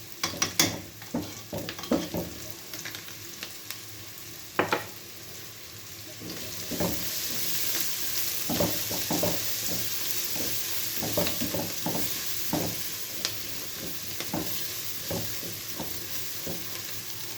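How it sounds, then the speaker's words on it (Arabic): Minced garlic frying with browned onions in a pan, a steady sizzle that grows louder after a few seconds, punctuated by regular scraping stirs, close with no talking. "هبتدي احط ايه؟ توم مفروم اهو، قيمه معلقه توم مفروم"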